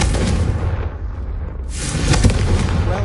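A Confringo fire spell blasts in the Hogwarts Legacy video game, a loud booming explosive burst with a rumbling, crackling tail that swells again toward the end, with no talking.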